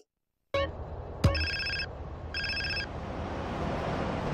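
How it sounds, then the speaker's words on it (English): Cell phone ringing for CJ in GTA San Andreas, an electronic ringtone in two short repeated bursts after a sharp onset, heard over steady in-game background ambience. "let's start with CJ getting the phone call"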